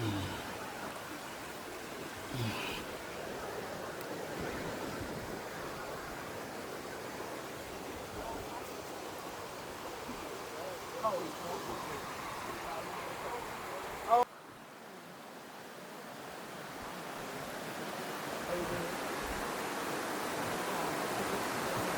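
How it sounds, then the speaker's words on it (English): River water at the Assin Manso slave river site in Ghana flows steadily in a soft, continuous wash, faint and close, with a brief bump partway through. "Constant flow of water."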